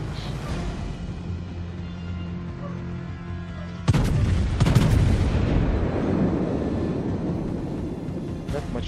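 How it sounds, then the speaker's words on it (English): A torpedo salvo fires from the German battleship Scharnhorst in World of Warships: a sudden loud boom and rumbling launch break over steady engine and sea ambience, with a voice speaking. "so I'm shooting another salvo of torpedoes here"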